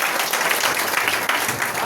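Congregation at a Christian testimony gathering clapping in thanks, a dense, steady wash of applause filling the whole moment without pause.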